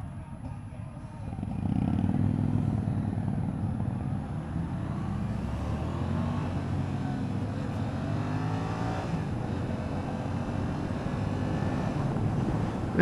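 A Yamaha FZ-07 motorcycle on a test ride pulls away and accelerates, its engine rising into a steady loud drone that shifts pitch through the gears amid wind noise.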